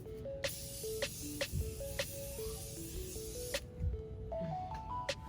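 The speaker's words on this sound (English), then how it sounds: "I'm gonna go ahead and spray, set my face" A few short hissing bursts of makeup setting spray misting onto a face close by, spaced unevenly, over soft background music.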